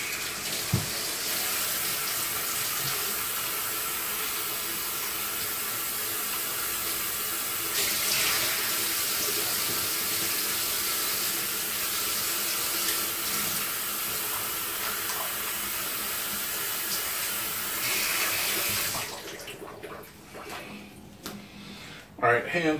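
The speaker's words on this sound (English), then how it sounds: "Wash my hands right quick." Water runs steadily from a kitchen sink faucet as hands are washed beneath it, a constant rushing splash that cuts off near the end, followed by a few faint handling noises.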